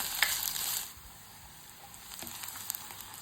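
Finely chopped onion for a coconut squid roast sautéing in a pan, a soft crackling sizzle that dips quieter midway, with a few light clicks of stirring and no voices.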